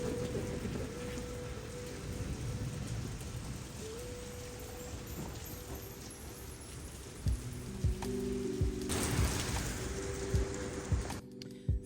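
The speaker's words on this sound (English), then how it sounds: "All right, now the rain has started." Steady rain falls outdoors in crazy stormy weather, a dense continuous hiss with scattered drip and tapping hits, louder pattering near the end, no talking.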